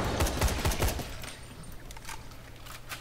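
A police rifle fires in the zombie game Dying Light: a quick burst of sharp, loud shots in the first second, then quieter rumbling and scattered clicks.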